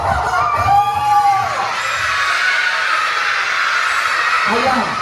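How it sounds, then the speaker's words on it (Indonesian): A rooster's crow rings out briefly at a school Maulid Nabi gathering, rising over a loud, constant murmur and shouting from a crowd of children. A second short call follows near the end. "terdengar suara ayam berkokok"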